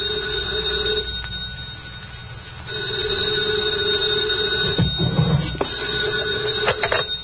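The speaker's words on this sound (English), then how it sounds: "2 o'clock in the morning, the phone rang." An old telephone bell rings in a radio drama, repeated loud trilling bursts with short gaps between them, over a faint hiss.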